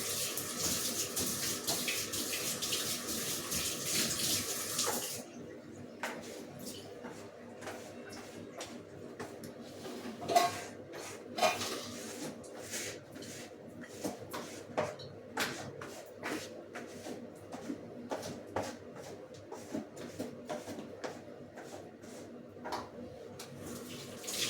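Dishes and pots being washed under a running kitchen tap, water pouring steadily for the first few seconds, then quieter rinsing with scattered clinks and knocks of utensils, close and moderately loud.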